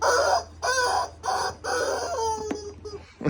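A dog's squeaky rubber chicken toy squawks in a string of loud, honking squeals, four or five bursts in quick succession with short pauses between them, close by.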